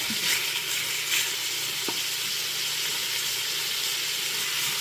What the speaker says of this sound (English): You wanna brown it until it's almost completely done.